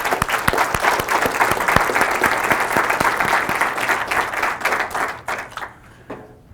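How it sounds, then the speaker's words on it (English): Audience applause for military families at a community event: a loud crowd of clapping hands with distinct sharp claps, steady for about five seconds, then tapering off to a few scattered claps and quiet. "Let's give them a round of applause."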